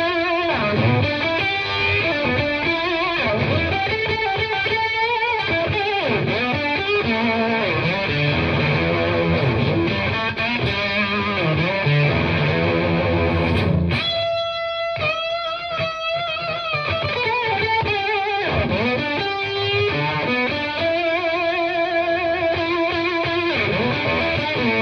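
An electric guitar through a Fender Mustang GTX100 amp on its Purple Fuzz preset plays a continuous distorted riff, thick and saturated throughout, with a brief choppy stutter midway.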